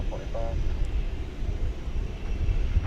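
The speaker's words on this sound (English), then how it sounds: "It's another Supercargo Master from the year 1988." A 1988 Cessna Super Cargomaster turboprop arriving at DFW Airport at night, a steady drone of engine and prop that holds close and fairly loud throughout, with a brief radio or voice chirp near the start.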